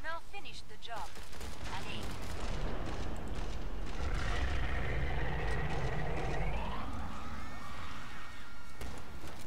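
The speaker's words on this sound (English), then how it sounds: "Nothing more beautiful than a slow motion explosion." Explosions and bursts of automatic gunfire fill a Killing Floor 2 match, with heavy rumbling booms and rattling shots continuing under a player's voice.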